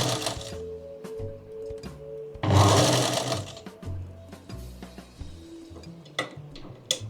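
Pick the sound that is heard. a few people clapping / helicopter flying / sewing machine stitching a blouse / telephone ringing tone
sewing machine stitching a blouse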